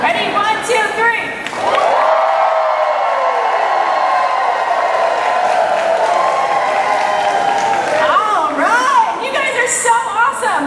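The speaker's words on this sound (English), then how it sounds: "just cheer like crazy, like you're having a great time" A crowd at the Garbage Bag Gala 2019 erupts into loud sustained cheering, screaming and clapping that rings on for several seconds before tapering into scattered shouts.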